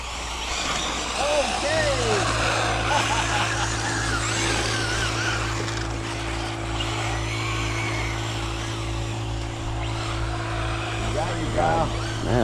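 An RC car races around a track, its whining motor buzzing steadily through the clip beside a low constant drone, with people talking nearby.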